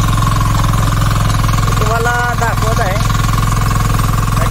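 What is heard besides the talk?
Kisan Kranti tractor engine running while ploughing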